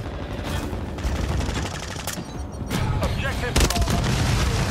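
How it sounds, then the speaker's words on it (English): Gunfire and explosive booms from a Call of Duty Domination match after a grenade is thrown, a dense stream of shots with heavier blasts near the end, with players talking over the action. "Grenade out!"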